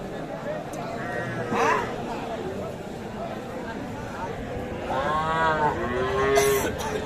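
Sahiwal cattle mooing at a busy cattle market, with a couple of drawn-out moos rising over steady crowd chatter and background voices.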